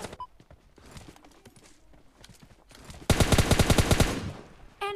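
Rapid automatic gunfire in PUBG Mobile Lite, a loud close burst of about a dozen quick shots after quieter scattered game noise, with another burst starting at the very end.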